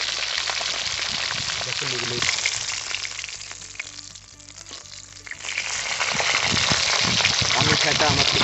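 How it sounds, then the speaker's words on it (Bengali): Pomfret fish laid one by one into hot oil crackle and sizzle loudly. The frying eases briefly in the middle, then swells back to a dense, close spatter. "একটা একটা করে মাছ দিয়ে সুন্দর করে দু পিঠটা ভালো করে ভেজে নেবো"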